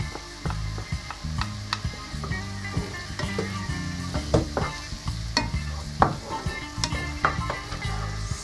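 Garlic and diced onion fry in a pan, a constant sizzle broken by repeated scraping stirs and light utensil taps, with a low rhythmic background hum and no talking.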